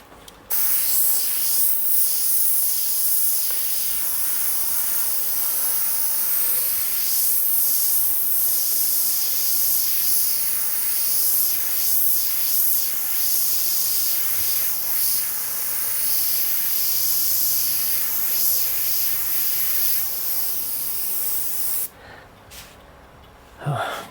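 An airbrush sprays paint in a long continuous hiss for over twenty seconds during work on an Ayrton Senna portrait, close and steady with small variations, then stops abruptly with brief short bursts afterward.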